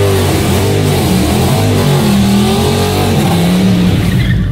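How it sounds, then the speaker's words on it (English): A Dodge Hellcat does a burnout, its engine roaring loud and steady with rough tire noise throughout, close and unbroken. "Specifically, y'all loved that burnout."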